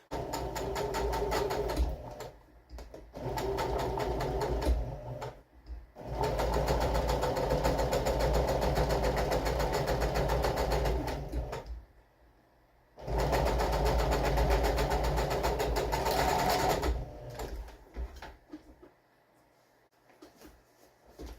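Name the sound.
sewing machine stitching fabric corners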